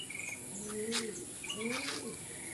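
A pigeon chick, a young ringed bird, gives a few thin cooing calls near the listener, in two short bursts over faint background chirping.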